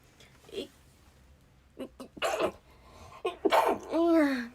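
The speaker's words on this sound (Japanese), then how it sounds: "すいません、なんだもくしゃみ出た。" A young Japanese woman sneezes after a few short breaths and small vocal sounds, a sharp close burst followed by a trailing voiced exhale in a quiet room.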